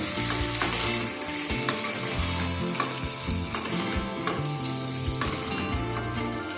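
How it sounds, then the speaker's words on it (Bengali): Potatoes with green chillies being stirred in a frying pan for a vegetarian aloo dum, steady sizzling with scraping spoon strokes over the pan, close and continuous with no talk. "সমস্ত কিছু খানিকক্ষণ একটু নাড়াচাড়া করে নেব"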